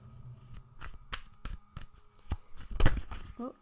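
Tarot cards shuffled by hand in a quiet room, a run of crisp riffling and shuffling bursts, irregular and close, with no voice.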